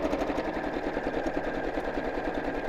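A domestic sewing machine set to zigzag stitch runs steadily on a sewing project, giving a continuous, close, fast mechanical whirr with no pauses and no talking.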